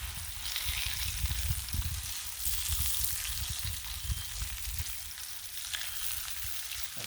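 Thick bacon sizzles on a griddle in a steady, crackling hiss that spatters continuously and fairly loudly, with no talking.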